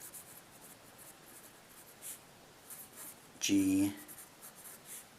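Marker or chalk writing out equations on a board, a brief squeaky stroke lasting under a second amid a quiet room, with a voice speaking nearby.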